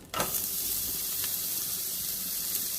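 Onion hits a hot pan and sets off an even, close sizzle that holds steady for a few seconds.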